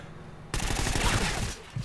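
Dense, rapid gunfire rattles in a shooter game. A sudden loud fusillade breaks in after a quiet start and runs for over a second, with a final distant pop.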